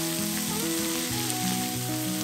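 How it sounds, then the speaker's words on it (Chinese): Pork belly and preserved mustard greens sizzle and crackle in a hot wok while being stir-fried, a steady frying hiss under soft background music, with no voices. "加入梅干菜，"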